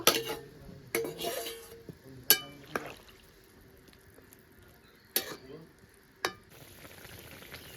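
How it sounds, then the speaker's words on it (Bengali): Fried potatoes being stirred into a katla fish curry in a pan, with sharp clinks of a spoon against the metal spaced a second or two apart over a soft, low sizzle. "ভালো করে একবার মিশিয়ে নেব এবার ভেজে রাখা আলুগুলোও দিয়ে দেব"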